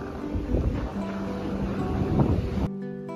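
Sea wind at Kihim beach in Alibag, a steady broad rush buffeting the microphone for a few seconds before cutting off abruptly.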